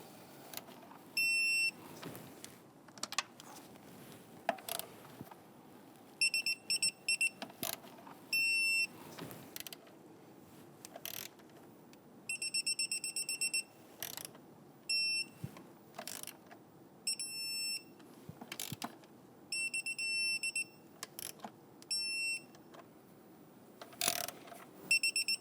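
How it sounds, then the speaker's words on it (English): A digital torque wrench tightens the valve cover bolts on a 3.6L V6 Jeep Grand Cherokee to 89 inch-pounds, giving repeated high electronic beeps in bursts along with ratchet clicks, close and fairly quiet. "we're going to torque this to 89 inch-pounds, starting with the rearward bolt in the back here."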